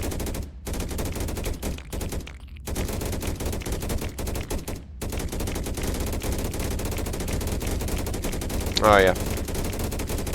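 Basic rifles in a sci-fi swarm shooter fire continuously in dense, rapid bursts, with a few short pauses and a brief shrill squeal near the end; one voice speaks briefly over the gunfire.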